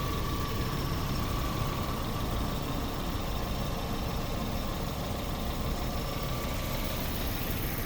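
A 2003 Nissan Sunny Neo with automatic transmission idles smoothly and evenly, a close, constant engine hum that holds without variation.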